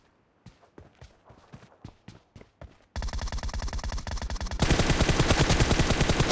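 Gunshots in PUBG Mobile: spaced single shots at first, then dense automatic bursts that grow louder and fill the second half, close and punchy with no talk.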